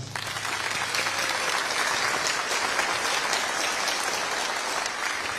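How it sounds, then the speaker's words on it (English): Sustained applause from a school concert audience fills the hall steadily, broad and even throughout with no break, following a middle and high school band's spring concert performance. "Please give them a round of applause."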